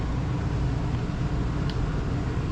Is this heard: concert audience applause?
no